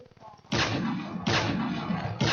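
A sniper rifle shot in a video game fires as a loud close blast, followed by a second booming shot about a second later, with a third starting at the very end.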